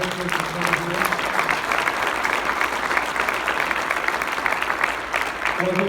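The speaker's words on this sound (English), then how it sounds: "Let's give Dr. Hull one more round of applause." A conference audience at the MIRE Conference applauds Dr. Hull in a steady, dense wash of many hands clapping, sustained and even throughout.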